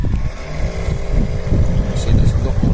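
A remote-controlled model boat's motor runs at 40% throttle, a buzzing drone with a rumble of water and wind gusts on the microphone, close and fairly loud.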